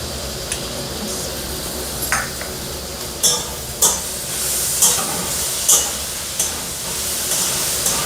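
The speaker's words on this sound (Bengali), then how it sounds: "এবার আমি থেতো করে রাখা আদা আর রসুন দিয়ে দিচ্ছি।" Crushed ginger and garlic frying in a pan for Bengali-style green peas and potato ghugni, a steady close sizzle with scattered sharp pops and clinks of stirring, no talk.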